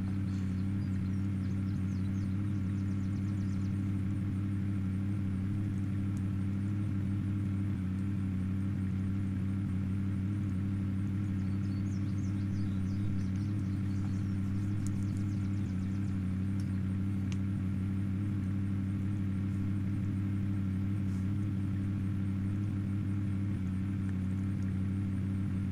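Car engine from the video game Unturned running continuously, a steady mid-pitched hum and whir with faint revving texture, held at a constant level for the whole stretch without speech.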